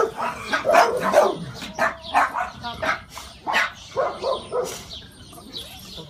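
A dog barks repeatedly in quick, fairly loud yips and barks from close by, with faint voices present.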